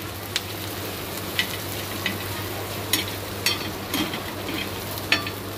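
Sliced onion frying in oil in a pan until golden, a steady soft sizzle broken by a spatula's scrapes and light taps against the pan every second or so, close and fairly quiet with no talk.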